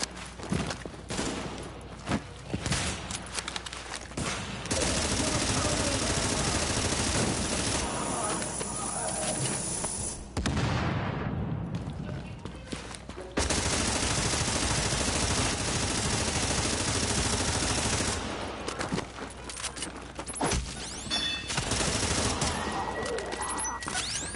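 Gunfire from The Division video game, dense bursts of automatic fire and fusillades, loud and sustained across most of the stretch, with brief quieter gaps and a voice speaking in places.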